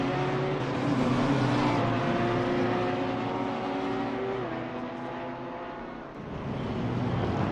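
BMW race car engine in a Low Fuel Motorsport sim racing game, following the number 14 BMW, holds a steady, loud droning tone that sweeps up and down through gear changes and dips briefly near the end.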